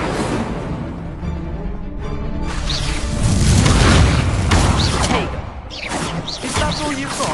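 Confringo and Incendio spell blasts in Hogwarts Legacy: loud booming fiery bursts and whooshes that swell into a roaring peak midway and then fade, close and dense.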